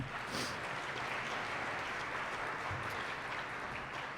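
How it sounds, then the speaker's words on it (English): Audience clapping at a high school spring jazz concert, a steady wash of hands from a room full of people heard at moderate distance, even and unbroken throughout. "Give yourselves a round of applause, please."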